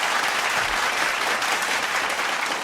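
Steady applause from a group, loud and continuous for nearly three seconds, with no voices rising above it, during a podcast episode.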